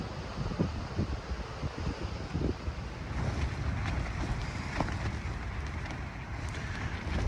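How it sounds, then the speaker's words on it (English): Strong wind buffets a mountain camp in Central Otago at three in the morning, a steady roaring rush with gusting surges that carries on unbroken and close to the microphone. "Three in the morning and it is blowing so bad."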